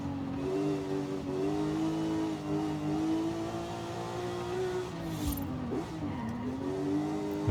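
An A-class car in Forza Horizon 5 drives with a steady, loud engine drone, pitch rising and dipping as it revs and shifts, with a brief tire squeal near the end.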